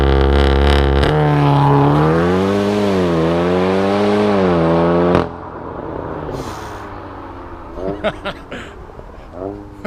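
A tuned 540 bhp Golf R accelerates hard, its engine note climbing in a loud, rising sweep for about five seconds before cutting off abruptly, followed by quieter road and wind noise.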